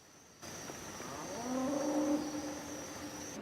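A single long cow moo at night rises and holds, fairly close, over a steady high-pitched background hum.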